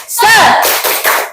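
A group does a rhythmic 'tepuk semangat' spirit clap during a school counselling training session. A short vocal cue comes first, then a few sharp, close clap bursts in a quick pattern.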